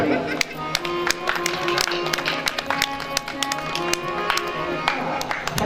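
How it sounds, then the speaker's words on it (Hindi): Loud applause and scattered clapping from a crowd greeting guests at a Shrimad Bhagwat gathering, a steady dense wash with sharp individual claps over a sustained musical drone and some voices. "जोरदार ताली।"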